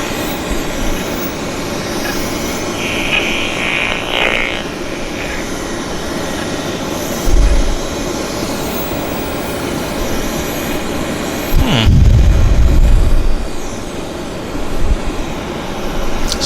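A Beechcraft 1900 turboprop at Vancouver Airport holds a steady engine hum and whine over background airport noise, with occasional low thumps and a heavier rumble later on.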